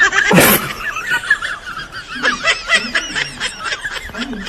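A horse neighing sound effect plays as a short, sharp burst, then a run of quick, chattering whinnies and snickers that stay close and fairly loud.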